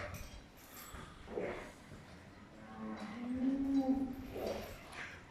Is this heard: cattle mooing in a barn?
yes